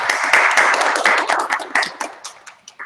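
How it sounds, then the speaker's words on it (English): A lecture audience claps for the speaker after a neutrino physics talk, a dense burst of hand claps that thins into scattered, fading claps near the end. "Let's give our speaker a round of applause."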